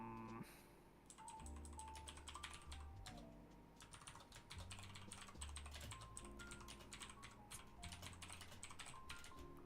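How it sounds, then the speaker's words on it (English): Rapid, forceful typing on a computer keyboard rattles nearly nonstop in dense bursts, fairly close, with a faint background tone underneath and no voices. "Who's aggressively typing right now?"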